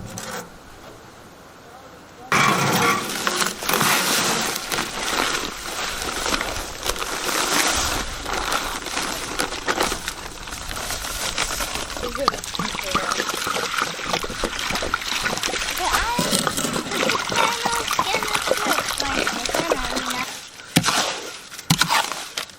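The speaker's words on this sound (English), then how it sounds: "the concrete is finally here, so we're gonna get mixing, core filling," A concrete mixer churns a batch for core filling house piers on a home rebuild site, a steady loud grinding wash that starts after a quiet moment and runs on, dropping away briefly near the end.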